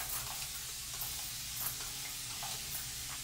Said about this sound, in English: I do have my spray bottle and I'm just gonna go ahead and start wetting my hair